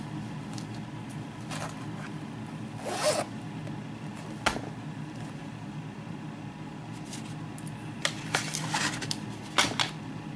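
Zipper on a pencil pouch being worked in a room, giving a few short raspy zipping bursts spread across the stretch over steady low background hum, with no talk.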